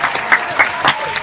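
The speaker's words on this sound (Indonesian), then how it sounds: "mari kita berikan tepuk tangan" Podcast studio audience applause, a short loud burst of rapid clapping with no talk over it.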